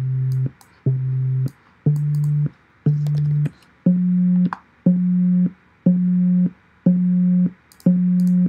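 Synthesized beat triggered by clock audio nodes at 60 BPM: a steady series of identical short electronic tones, each a half-second buzzy pulse, repeating about once per second, the pitch stepping up slightly midway.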